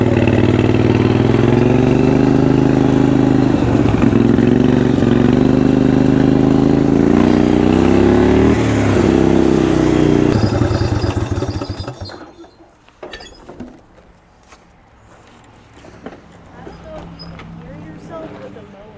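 A turbocharged riding mower engine runs loud and close on a shakedown run with a steady droning idle, then shuts down and falls to quieter knocks and handling noises.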